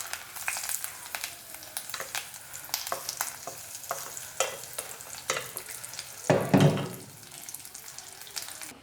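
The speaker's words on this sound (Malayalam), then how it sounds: "ഇനി നമുക്ക് വറുത്തിട്ടത് നമ്മുടെ കറിയിലേക്ക് ഒഴിച്ചു കൊടുക്കുക." Hot tempering poured into Kerala sadya-style pineapple pachadi curry, followed by stirring; intermittent close clinks and scrapes, with a brief louder sizzling burst as the hot oil hits the curry.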